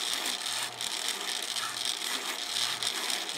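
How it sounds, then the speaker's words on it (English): A drill press spins at about 700 RPM while a file works back and forth in a groove, making a steady close rasping whir with soft rhythmic scraping pulses. "I just cut the drill press on, running at about 700 RPMs"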